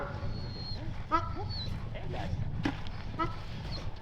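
Sled dogs eagerly whimpering and yipping in short high whines, several overlapping nearby, mixed with someone speaking.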